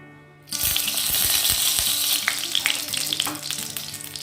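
Ghee hits hot oil in a pan where rohu fish pieces were just fried for Bengali fish kalia, bursting into a loud, close, crackling sizzle that starts abruptly and keeps popping steadily.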